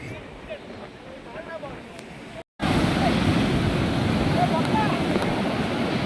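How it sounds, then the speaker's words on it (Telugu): Big waves break at Baga beach in Goa, a deep, steady roar of surf close by with heavy wind buffeting the microphone, a brief cutout midway, then louder crashing surf. "దగ్గరగా ఉంటే పెద్ద పెద్ద అలలు వస్తున్నాయి మనకి"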